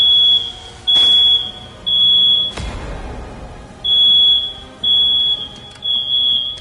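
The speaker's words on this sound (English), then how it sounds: "the fire alarm's going off" A fire alarm sounds indoors with loud, shrill electronic beeps in repeating bursts of about a second each, separated by short gaps, over a low background rumble.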